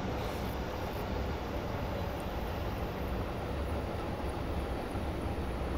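A Class 90 electric locomotive in Train Simulator brakes toward a stop, a dense, steady rumble and roar with a constant high whine over it, filling the whole stretch without pause.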